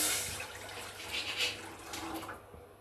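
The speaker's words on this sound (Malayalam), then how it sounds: "ഇതിലേക്ക് വെള്ളം ഒഴിച്ചു കൊടുക്കാം" Water streams and splashes into a vessel for a couple of seconds, a steady broadband pour that tapers off at the end.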